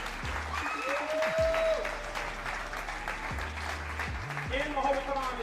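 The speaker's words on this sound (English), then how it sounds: "give them another round of applause if you don't mind" Audience applause for guests at a Black History Month lecture, moderate clapping from a crowd that runs throughout while tonal hums and electronic feedback-like tones sound over it.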